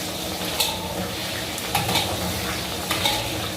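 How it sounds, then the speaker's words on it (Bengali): Potatoes sizzle and fry in a pan, with a steady crackle throughout and occasional louder stirring scrapes. No one speaks. "এবার আমি আলুগুলোকে ভেজে নেবো।"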